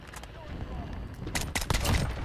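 SKS rifle fire in Call of Duty: Modern Warfare comes as several sharp, close shots in a quick burst near the end, over a busy game background.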